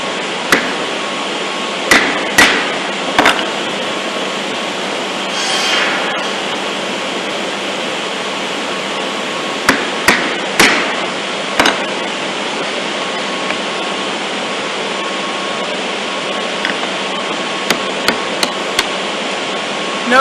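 Sharp mallet blows on a chisel chopping dovetail pins in a woodworking shop, a handful of distinct knocks spread irregularly over a steady background hiss, some in quick pairs, with no talking.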